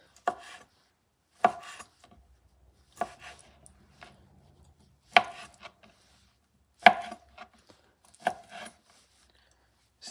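A knife chopping octopus into pieces on a cutting board, six sharp separate chops spaced a second or two apart, close and otherwise quiet.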